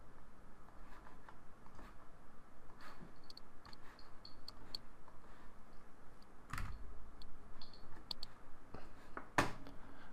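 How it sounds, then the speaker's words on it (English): Faint mouse and keyboard clicks from several people come through an online voice chat, scattered light ticks over a low steady hiss, with a couple of sharper clicks near the end. "I can hear everyone clicking."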